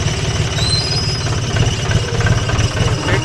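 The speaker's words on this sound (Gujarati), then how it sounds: "હાલો તો આપણે હવે ટ્રેક્ટર આવે છે" A farm tractor, arriving to haul manure, runs with a loud, close, rumbling engine and a rapid low knocking throb.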